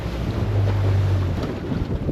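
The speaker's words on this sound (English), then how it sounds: "the wind has really picked up a bit now and it was blowing us towards the reef" Strong wind buffets a small boat at sea near a reef, roaring steadily and loudly across the microphone with rushing water beneath, no voices.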